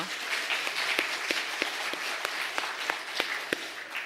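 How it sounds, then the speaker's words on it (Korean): A church congregation applauds during a Sunday worship service, steady moderate clapping from a large room with individual sharp claps standing out rhythmically over the dense wash. "하나님께 영광의 박수 올리겠습니다."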